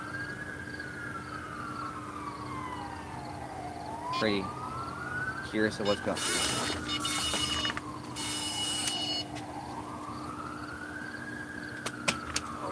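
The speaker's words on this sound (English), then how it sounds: "I'm hearing a lot of ambulances." Distant ambulance sirens wail in slow rising and falling sweeps at night by a Lake Michigan shoreline, steady and far off across the whole stretch, with brief speech and scattered clatter partway through.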